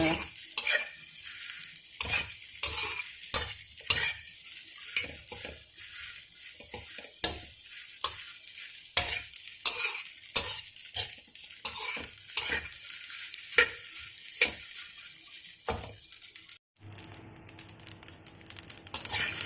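Fried rice with salted fish being stirred in a frying pan, a steady sizzle broken by repeated scraping strokes of a spatula, close and clear, with a louder shift near the end and no talking.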